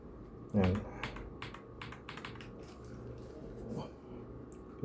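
Bursts of key clicks from a Royal Kludge S98 mechanical keyboard with Chartreuse switches, quick irregular taps under someone speaking nearby, fairly quiet.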